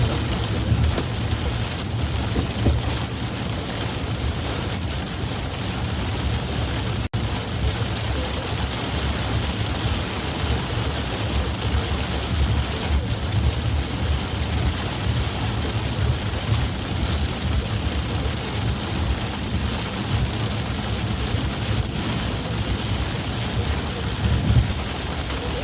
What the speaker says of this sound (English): There's so much rain coming down, even with the wipers and the rain X.